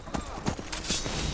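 Horse hooves clip-clopping in Skyrim, a quick run of fairly faint, evenly spaced clops lasting barely over a second, with a voice speaking briefly over them.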